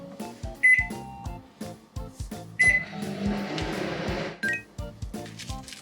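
A microwave oven's button beeps and clunks, then a short stretch of its running hum while heating avocado, with more beeps and soft clicks around it.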